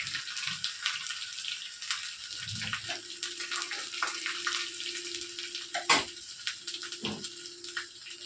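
Ginger pieces fry in oil in a home kitchen pan, giving a steady close hiss and crackle with a short bubbling burst early on and a few sharp clicks, no one talking.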